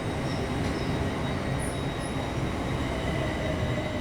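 Class 465 electric multiple unit, number 465007, pulling out of a London station bound for Gravesend, giving a steady low rumble and rolling rail noise with a faint high squeal, continuous throughout and no voices.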